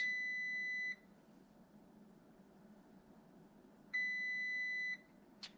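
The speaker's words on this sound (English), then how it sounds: "so now it's going through all the beeps." Electronic beeps sound during ECU flashing of an Audi RS3 with a Unitronic tune: two long, steady tones about a second each, spaced three seconds apart over a quiet hiss, followed by a short click.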